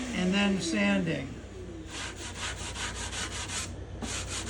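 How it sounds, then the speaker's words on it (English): Sandpaper rubbing over a spruce guitar top, evening out a two-inch band near the edge; rhythmic scratchy strokes follow a brief voice, close and steady in repeated passes. "And then sanding."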